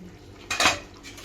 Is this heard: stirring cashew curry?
yes